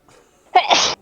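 A single sharp human sneeze, close and loud, with a short intake of breath just before it, during a tabletop role-playing game session.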